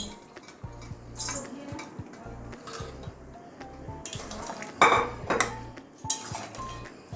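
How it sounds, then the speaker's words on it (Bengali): Boiled peas being poured into a pan of vegetables for a mixed vegetable curry, clinking and scraping of utensils against the pan with a louder clatter midway, and a faint mechanical ticking hum underneath. "এবারে মটরগুলো সিদ্ধ করে নিয়েছি এবারে ঢেলে দেবো"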